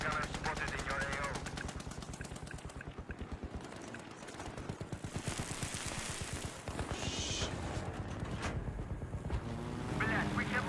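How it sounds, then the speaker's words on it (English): Rapid enemy machine gun fire in Battlefield 3, steady rattling bursts running nearly the whole time amid a loud battle mix, with a voice talking over it. "Enemy machine gunner spotted in your AO"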